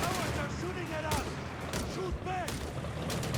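Distant machine gun bursts and scattered gunfire in a Company of Heroes 3 battle, Wehrmacht versus US Forces, sounding as a continuous low crackle under a steady battle din while a commentator talks over it.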